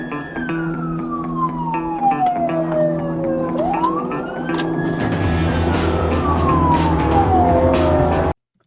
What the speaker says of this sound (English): They're driving quickly using sirens to respond to a call about a Burger King.